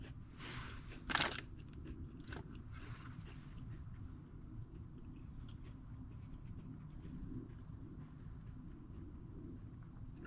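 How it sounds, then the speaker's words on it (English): A crunchy oatmeal chocolate chunk cookie is bitten and chewed outdoors at a camp. A sharp crunch stands out early, followed by a few softer bites over a steady low rumble. "For being an oatmeal chocolate chunk cookie, it sure is crunchy."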